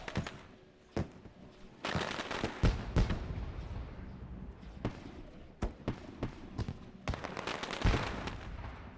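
Fireworks burst at Knoxville, Tennessee in an iSCAR sprint car racing sim, a string of sharp irregular pops and cracks at varying loudness over a low rumbling background, with no talk.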